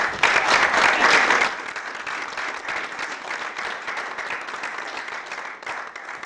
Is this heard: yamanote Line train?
no